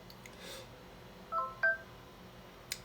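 Two short telephone dialing tones beep in quick succession, clear and moderately loud against a quiet room background, followed by a faint click.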